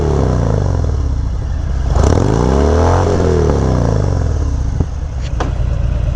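Harley FatBob 114 motorcycle with Reinhardt slip-on exhausts, throaty and loud up close as the throttle is cracked, swelling into a rev and dropping back to a rumble, with a few clicks on top.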